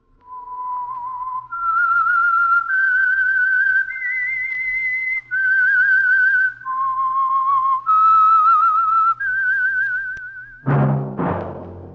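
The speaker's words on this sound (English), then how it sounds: "That whistle is your signal" A clear, loud whistled melody rising and falling through several sustained notes, then ending in a sharp, brief burst of orchestral sound, opening an old radio drama.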